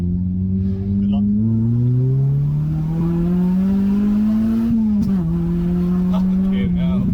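A tuned Honda Civic EP3 Type R revs hard nearby, its engine note climbing steadily in pitch with a brief dip and sharp crackling pops near the end, loud and close inside the car.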